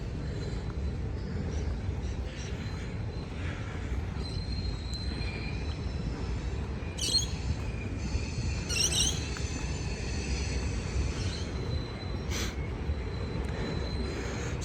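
A long coal freight train rolls past on the rails with a continuous heavy rumble, punctuated by a few high wheel squeals and metallic screeches, heard steadily throughout.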